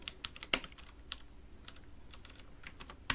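Keys tapped on a computer keyboard while numbers are entered, scattered quiet clicks in an irregular rhythm with a couple of sharper strokes, close and alone.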